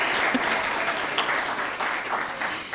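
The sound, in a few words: audience round of applause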